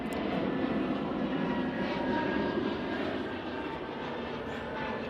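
A departing airliner climbs out of Manchester Airport, its engines producing a steady, loud broadband roar that holds throughout and eases slightly toward the end, with no talking over it.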